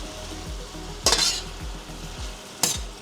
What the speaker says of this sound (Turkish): Birazcık böyle soğanla döndürdüm.